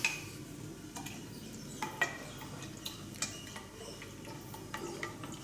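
Herbal Dit Dar Jow wine steeped in vodka and vinegar being stirred in a large batch, giving faint scattered clinks and knocks against the container with soft liquid swishing, quiet and irregular.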